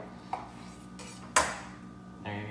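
A knife scrapes and clinks against a plate while a medium-rare steak is cut in half: a small tap, then a sharp louder clack of metal on the dish, followed by a softer scrape.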